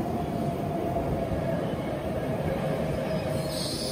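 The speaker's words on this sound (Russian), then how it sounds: "Метро в Неаполе самое что ни на есть обычное." A Naples metro train rumbles steadily as it runs, with a continuous dense roar throughout and a faint high wheel squeal creeping in near the end.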